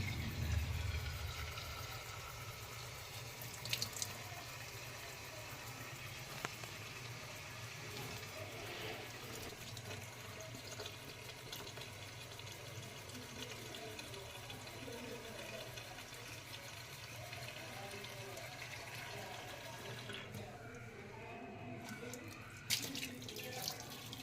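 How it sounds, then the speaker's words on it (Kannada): Steady running water from a tap splashing into a sink while tripe is rinsed, continuous throughout with a few brief knocks and clatters near the end. "ಈಗ ಪೈಪ್ಗೆ ನೀರನ್ನ ತುಂಬಿ ಒಂದು ಮೂರು ನಾಲ್ಕು ಸಲ ಹೊರಗಡೆ ಒಳಗೆ ಚೆಲ್ಲಿ ಅಷ್ಟೇ"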